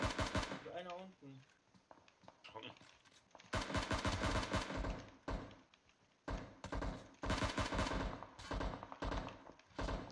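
Gunfire in PUBG Mobile, with repeated sharp shots in clustered bursts, loud and near, alternating with short gaps, while players talk over the action.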